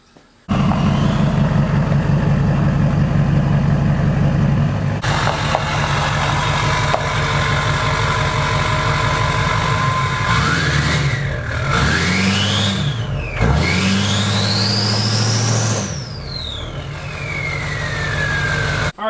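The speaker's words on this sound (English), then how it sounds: "let's go ahead and back up the Duramax and let's make a little bit of noise" A Duramax diesel pickup truck engine runs close and loud for the whole stretch, a steady idle rumble with rising and falling tones partway through as the truck backs up.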